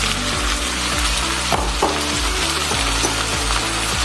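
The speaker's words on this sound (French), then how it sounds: "Je vais donc laisser ces légumes-ci là bien mijoter et bien cuits." Corn, green beans and peas simmer and sizzle in a pan, with a steady close-up frying crackle and a few stirring scrapes and clinks, and no talking.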